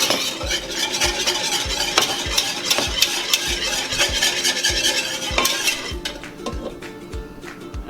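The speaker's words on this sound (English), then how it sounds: "Gonna give this a stir." Steady scraping and clinking of a utensil stirring a cornstarch and water mixture in a pot, with repeated rhythmic knocks against the sides, close by and fairly loud.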